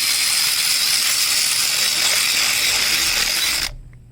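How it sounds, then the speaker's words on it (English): A ratchet wrench clicks rapidly and continuously while loosening a spark plug on a 2015 Chrysler 200 with a 2.4 engine, close and loud, stopping abruptly near the end. "Go hit it with the ratchet."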